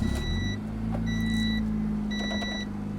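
A Honda Civic EG with a turbocharged K23 swap running on E85 hums with a steady low engine drone inside the cabin while an electronic chime beeps in three evenly spaced bursts.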